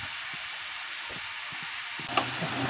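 Carrots sautéing in a pan with salt hiss in a steady, close sizzle, with a few soft spatula knocks and stirring strokes under it and no talk.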